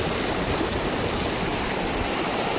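Floodwater of the Brahmani river rushing past in a steady, loud, unbroken roar that fills the whole moment, with no voices over it.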